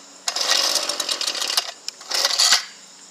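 A Ryobi 2-cycle full-crank weed eater on full choke being pull-started, with two long, loud rasping recoil pulls close by, the second pull shorter and sharper, and no engine catching.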